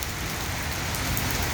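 Steady rain falls on a surface outdoors, a dense even hiss of drops with no break across the short stretch and no voices.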